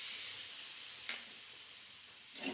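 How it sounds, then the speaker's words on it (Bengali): Potatoes and spring onions frying in a pan while stirred with a paste of poppy seeds, peanuts and green chili, giving a steady close sizzle with a couple of brief scraping stirs. "পোস্ত, চিনেবাদাম, কাঁচা লঙ্কা বাটা দিয়ে খুব ভালোভাবে আমি আলু পেঁয়াজকলির সাথে নেড়ে চেড়ে নিচ্ছি"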